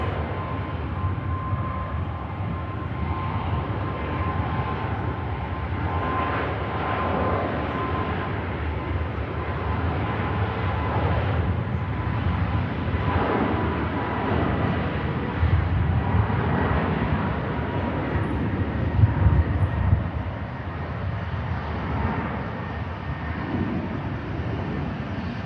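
TUI airliner taking off from runway 23 left at Manchester Airport, a rising low engine roar with rumbling surges that swells toward the end, heard from a distance without speech.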